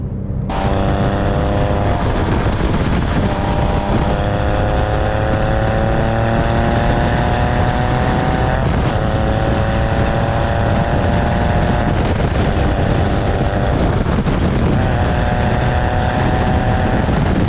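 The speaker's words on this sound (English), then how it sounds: "I want to get it up to a certain speed to hear the sound." Porsche 911 (996) fitted with an FD Motorsports Fister exhaust, heard from inside while driving and accelerating: a loud, steady engine drone with rising and falling harmonic tones, short pauses between gears, continuous throughout.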